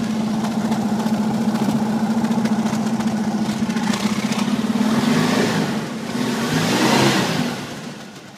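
A 1965-1966 Ford Mustang engine that has sat unused and just had a new gas tank fitted runs roughly without holding idle. It drones loud and steady, then dips and surges unevenly near the end.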